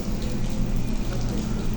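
Rain falling during a motorbike delivery ride toward Pasig, a loud, continuous broadband hiss of drops mixed with road and engine rumble, steady and close with no talking.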